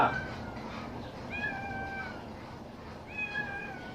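A cat meowing twice, two drawn-out close meows separated by a short pause, over a faint household background with no talk.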